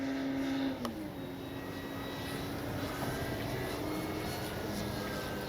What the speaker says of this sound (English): Man, what a good flying plane.